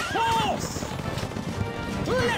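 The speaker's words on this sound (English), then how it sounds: "horse! Let's ride!" Horse in the video game Stronghold Definitive Edition whinnies at the start and again at the end, with hoof clatter and battle noise between, a short loud burst over game sound.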